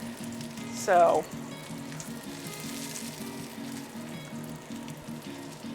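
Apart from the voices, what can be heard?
lamb fat cap sizzling and rendering in a pan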